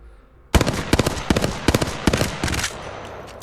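Hemlock burst rifle firing in Apex Legends, a sharp sudden opening volley followed by several quick evenly spaced bursts of loud, close shots over about three seconds, with no voices.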